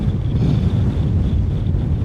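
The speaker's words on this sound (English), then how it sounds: "I'm just hoping that we can get out of the wind here for a second" Strong, steady wind roars and buffets the microphone on a high mountain pass near the summit of a thirteen-thousand-foot peak, a constant low rumble with no break and no voices.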